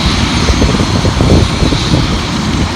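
A loud, steady helicopter roar with a rough rumbling throb fills the whole stretch, close and continuous, over New York City near the Statue of Liberty.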